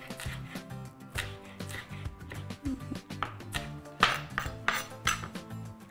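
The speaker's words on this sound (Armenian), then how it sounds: "Շատ մանր արենք կտրատում։" A knife chops onions finely on a cutting board in a home kitchen, giving quick, fairly quiet rhythmic taps with a few clinking accents and no talking.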